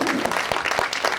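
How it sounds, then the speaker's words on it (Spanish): Church congregation clapping for the Lord in steady, dense applause throughout, a few sharper claps standing out near the start and middle. "Dele palmas al Señor"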